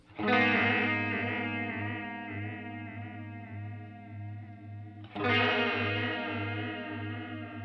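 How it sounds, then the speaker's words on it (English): Walrus Audio Slotva modulation pedal warbling a held guitar chord, its pitch wobbling unevenly, then a second strummed chord swelling back in with the same wavering modulation and slow decay. "you can kind of hear it warbling a little bit differently."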